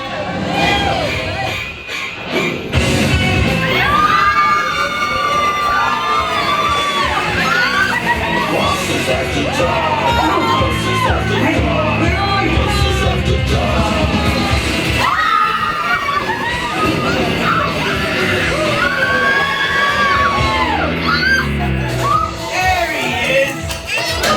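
Riders on a Halloween night dark ride at Disney California Adventure shout and scream loudly, with a crowd-like din of overlapping voices and a mechanical rumble around them.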